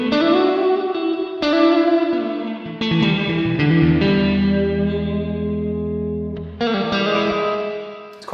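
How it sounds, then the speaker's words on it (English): An electric guitar runs through a Sonicake Levitate delay/reverb pedal with the reverb turned fully up, strummed chords blurring into a thick, washy, sustained tail and ringing on continuously. "I can turn it all the way up to get a lot of reverb"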